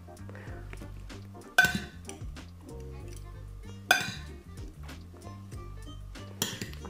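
Kitchen dishes and cutlery clinking as a plate is fetched during sauce making for spätzle, three sharp close clatters spaced a few seconds apart over a steady low hum.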